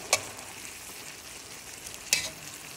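Okra and tomato sauté in a pan with a soft, steady sizzle, punctuated by two sharp scraping stirs near the start and near the end; fairly quiet, with no voices.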